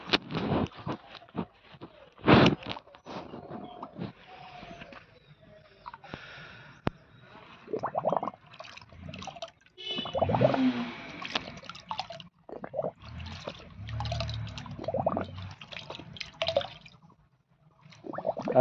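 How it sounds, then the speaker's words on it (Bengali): Water sloshes and splashes as a plastic pesticide bottle is rinsed out by hand, in irregular close bursts with quiet gaps between. "আর বোতলটাকে ভালো করে আপনারা ধুয়ে নেবেন"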